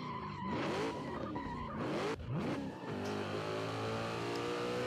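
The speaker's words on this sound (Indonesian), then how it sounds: "Kali ini karena ini mobil polisi terakhir, kita akan terjun bersama-sama dengan mobil ini" A police car drives off the top of a building in a video game, its engine revving and tires screeching loudly before a sharp jolt, then a sustained engine drone.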